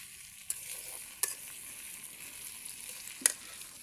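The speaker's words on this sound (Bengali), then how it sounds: "নাড়াচাড়া দিয়ে দেই।" A vegetable curry is being stirred in a pan over a faint, low sizzle, with three sharp clinks of the utensil against the pan spaced out over a few seconds. The sound is quiet and close, with no speech.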